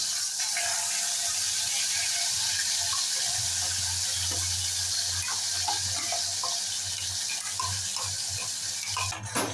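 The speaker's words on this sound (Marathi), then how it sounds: "आता मध्यम गॅसवरती छान परतून घेऊया" Onion and tomato puree sautéing in a pan over medium heat, a steady close sizzle and bubbling with scraping stirs and small clinks, ending with a louder scrape.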